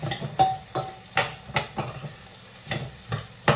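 Onion, garlic, ginger and tomato sautéing for chicken curry: a soft sizzle under repeated close spatula scrapes and taps against the pan in an uneven rhythm.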